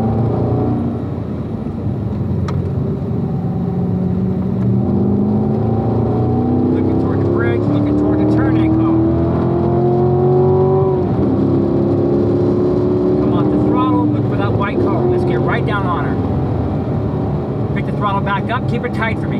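A Corvette engine revs and accelerates around a racetrack, loud and close with pitch climbing through gears and easing back, wind and tire noise underneath while an instructor talks over it.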